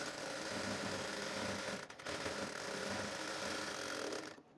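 Steady whirring and ticking of a sewing machine stitching a work blouse, close and continuous, with a brief pause midway before it resumes and then halts.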